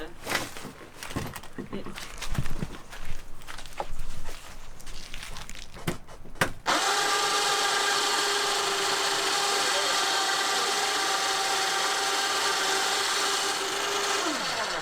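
Clattering and rustling noises stop, then an anaerobic digester pump starts and runs with a loud, steady whine and hum that continues unbroken.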